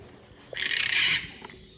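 A bird calling in a New Zealand forest gives a single hissing, breathy call lasting about half a second. It is close and fairly loud over quiet forest ambience.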